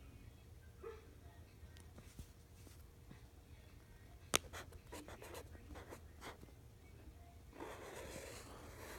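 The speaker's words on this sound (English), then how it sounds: "Write your answer down." Faint pencil scratching on paper during a math lesson, intermittent short strokes and taps with one sharp click, quiet and close against a low background hum.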